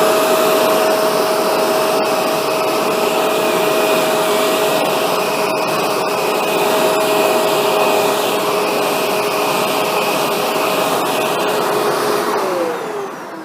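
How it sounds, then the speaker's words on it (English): A Shark NV752 vacuum cleaner with its powered pet tool runs loud and close as a steady whine and rushing airflow with a constant tone, fading slightly at the very end, with no talking. "Here we're using the Shark NV752 with the powered PET tool."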